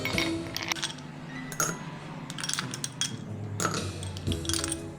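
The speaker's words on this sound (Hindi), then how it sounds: "गिलास में हम डालेंगे 2 से 3 आइस क्यूब।" Two or three ice cubes dropped into a glass while preparing Dalgona coffee, giving a few bright clinks and rattles spread across the moment, fairly close, with no voice.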